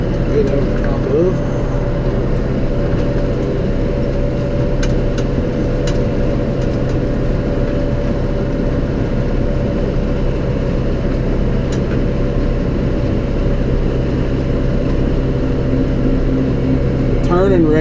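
A John Deere 5R tractor engine runs at a steady, loud drone throughout, with a constant low hum and occasional faint clicks while a person talks over it.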